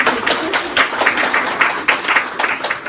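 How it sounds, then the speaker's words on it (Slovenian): Audience applause at an evening info talk on health and wellbeing in Maribor, a steady patter of many hands clapping close by for a few seconds with no speech over it. "Tako da, dajmo en aplavz za Mirico."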